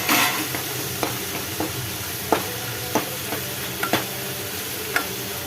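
A ridge gourd and tomato mixture with about ten garlic cloves is stirred in a pan, with steady close sizzling punctuated by a series of sharp spoon taps and scrapes against the metal.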